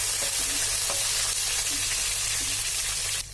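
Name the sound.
onion and green chilli pieces frying in oil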